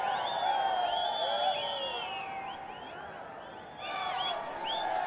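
Shpageeza T20 cricket crowd at the Bost Defenders vs Amo Sharks match cheering with sharp whistles and whoops, easing to a quieter murmur midway before swelling again.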